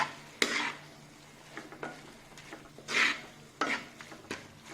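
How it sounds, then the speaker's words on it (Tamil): Masala spices with chili powder and salt are stir-fried in a pan for chicken manchurian, giving soft sizzling under intermittent scraping and clinks of a spoon against metal, with several louder scrapes and no talking. "இப்போ பார்த்தீங்கன்னா 3 மசாலாவையும் போட்டுட்டு நல்லா ஃப்ரை பண்ணிக்கோங்க."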